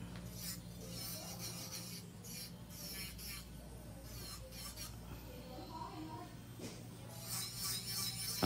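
A nail drill grinds thin acrylic on a fingernail while a pink and white ombre set is shaped, a faint, steady rasping whir with intermittent higher scraping bursts, close and quiet, no voices.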